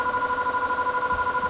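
Phone ringing in the SNES role-playing game EarthBound, heard as a steady electronic warbling tone with a fast pulsing beat throughout, alone and fairly clear.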